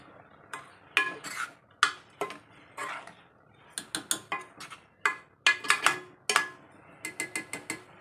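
A utensil stirs a curry with drumstick leaves in a pan, giving close, crisp metallic scrapes and clicks in irregular clusters with short pauses between strokes.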